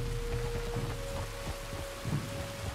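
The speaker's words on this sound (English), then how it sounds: "You were right about the damn rain." Steady rain in the Red Dead Redemption 2 game world, a continuous broadband hiss with a low rumble underneath and soft scattered patter, moderately loud, with no one talking.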